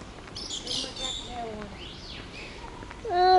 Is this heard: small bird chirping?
yes